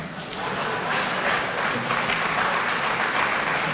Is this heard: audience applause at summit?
yes